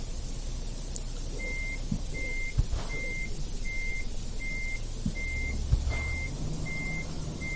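A truck's reversing alarm beeps in Euro Truck Simulator 2, a steady, evenly spaced series over a low engine rumble, with a couple of soft hiss-like bursts in between.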